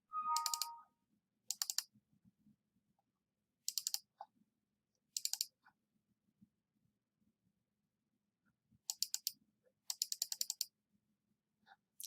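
A computer mouse clicks in short bursts of several rapid clicks, spaced apart over a quiet room background, crisp and close.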